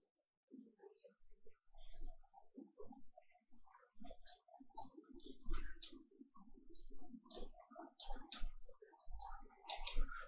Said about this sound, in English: let me just type my password and then continue with that